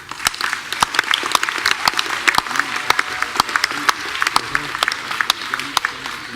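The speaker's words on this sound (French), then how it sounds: "je crois que vous pouvez les applaudir" Audience applause at a municipal New Year's greetings ceremony, a steady patter of many hands clapping throughout, moderately loud and sustained with sharp individual claps standing out.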